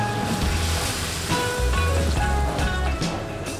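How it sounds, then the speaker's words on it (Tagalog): Three cups of water splash and gush into a pot of wild boar adobo, a close, churning pour that surges and slackens for a few seconds without any talking. "Lagyan natin ng 3 cup na tubig."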